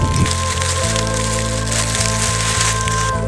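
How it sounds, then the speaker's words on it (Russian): Rain falls outdoors in the Crimean mountains on a windy, stormy day, a dense and loud patter that holds steady throughout over a low, constant hum. "Мы сидим, наслаждаемся, и дождь нас не пугает."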